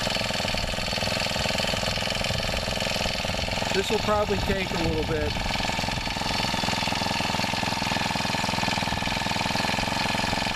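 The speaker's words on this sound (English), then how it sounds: "You got to listen to the engine, and you'll notice it when it gets warmed up." A mini tiller's small engine idles steadily while warming up, with a constant droning hum, while someone speaks briefly near the middle.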